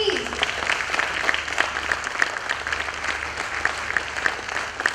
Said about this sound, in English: Let's have an applause, please.